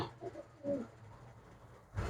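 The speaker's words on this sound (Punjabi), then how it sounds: "ਕਾਲਾ ਚੀਨਾ ਕਬੂਤਰ ਹੈ" A black China pigeon gives a few soft, low coos near the start, faint and close, followed by quiet background noise and a brief rustle at the end.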